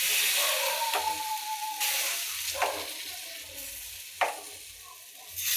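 Besan batter is poured onto a hot griddle and sizzles with a steady frying hiss, broken by a few sharp scraping taps as the batter is spread.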